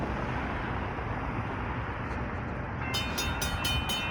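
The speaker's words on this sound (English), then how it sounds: "Oh, the lights are flashing down there, which means Texas train is on its way." An Amtrak Texas train approaches a crossing in Springfield, Illinois, with a steady, loud rumble throughout. Partway in, rapid repeated ringing from the crossing bell joins the noise.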